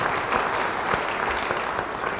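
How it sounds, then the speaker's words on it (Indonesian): Church congregation applauding during a sermon, a steady dense wash of clapping that holds evenly for about two seconds without speech. "Beri tepuk tangan bagi dia"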